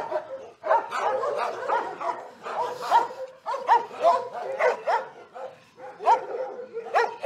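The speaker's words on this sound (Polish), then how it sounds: "No to jest akurat agresywny pies." An aggressive dog at an animal shelter barks and yelps repeatedly up close, bursts of loud, agitated barking in quick irregular runs with brief pauses between.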